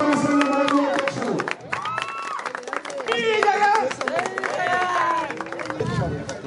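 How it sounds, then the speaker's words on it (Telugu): Crowd clapping and cheering at a political party joining event in Tenali, where former TDP leaders join the YSR Congress Party, a steady, busy burst of applause with mixed voices running throughout. "చప్పట్లు"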